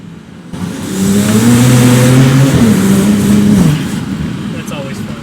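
A BMW car drives through a tunnel, its engine revving up with a rising, droning tone that echoes loudly for a few seconds before easing off, alone with no talk.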